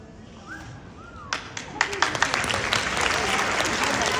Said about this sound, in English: Give Committee Room B a round of applause